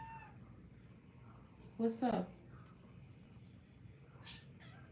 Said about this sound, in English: Why do you keep meowing at me?